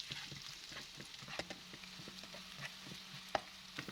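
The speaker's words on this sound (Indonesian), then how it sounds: "Ini bawang-bawangannya kita tumis dulu sampai layu dan berbau wangi." Shallots and garlic sautéing in a pan for chicken bakpao filling, a faint, steady sizzle broken by soft scraping stirs and a few light clinks.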